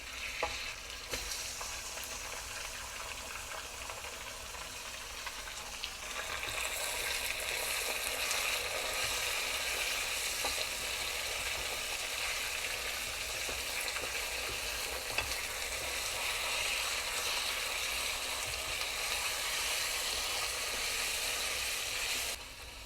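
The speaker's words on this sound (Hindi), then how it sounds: "कीमा डालने के बाद इसको अच्छी तरह से हिलाना है ताकि इसके लम्प्स जो हैं वो ख़त्म हो जाएं" About 750 grams of beef mince sizzles with browned onions in a pan, with a steady frying hiss under scraping stirring strokes, and the sizzle grows louder after several seconds and carries on evenly.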